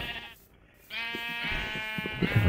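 Sheep bleating in the Minecraft Better Than Wolves mod, a drawn-out wavering bleat near the start, then a longer, louder bleat with harmonic layers running to the end.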